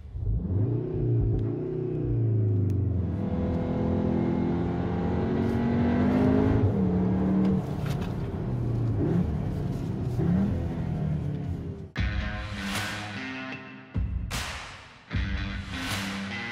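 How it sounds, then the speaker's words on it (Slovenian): Cupra car engine sound, partly artificial and played through the cabin speakers, heard from inside as a loud continuous rumbling drone that rises and falls with revving and acceleration, with gear-change dips near the end. "primanjkljaj na zvočnem področju so Cuprini inženirji nadomestili z umetnim zvokom, ki prihaja iz zvočnikov v potniški kabini"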